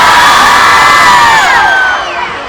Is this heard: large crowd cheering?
yes